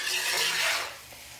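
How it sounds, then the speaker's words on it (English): Arborio rice toasting in a pan with garlic and smoked paprika, a dry, raspy scraping and stirring hiss, close and steady, fading slightly at the end. "Let's toast some rice, shall we? And this is arborio rice"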